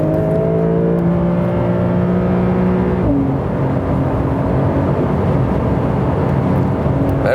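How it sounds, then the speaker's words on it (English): A Porsche 911 (992) flat engine drones loud and steady as it accelerates on a racetrack, its rising tone broken by one gear change before it pulls on again under heavy road and wind roar, with no talking. "It's also one of the sound characteristics of those flat engines."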